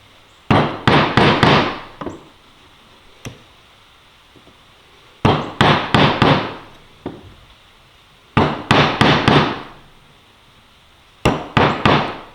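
A chisel driven by mallet blows cuts light cedar replacement parts for a magazine rack, sounding as sharp, loud strikes in quick clusters of four to six separated by short pauses.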